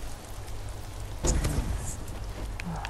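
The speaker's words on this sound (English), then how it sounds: "there's something I could do to stop the rain, right?" Steady rain hisses throughout in the video game Ghost of Tsushima, with a louder rumbling swell in the middle like distant thunder, and no voices.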